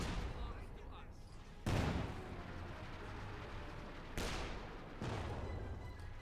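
Artillery rounds land in Company of Heroes 2, a World War II strategy game battle, with three heavy broadband booms spaced a few seconds apart over a constant rumble of distant gunfire and battle noise.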